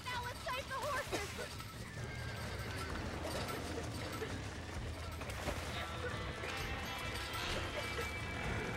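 Horses in Red Dead Redemption whinny and clatter with hoofbeats amid a burning barn, the neighing loud and repeated over running hooves and game noise, with a faint sharp crack in the mix.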